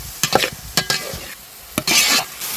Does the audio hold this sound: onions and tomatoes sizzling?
yes